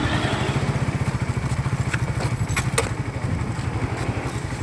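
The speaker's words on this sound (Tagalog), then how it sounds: "Nakaantar naman yung motor, primera lang." A motorcycle idling along in first gear, its engine putting out a steady, rapid low putter that stays loud and close throughout, with a few light clicks over it.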